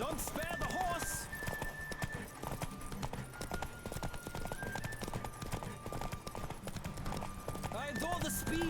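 In a Witcher 3 race, a galloping horse's hooves clatter in a quick, continuous rhythm, with occasional whinnies, under music and voices talking.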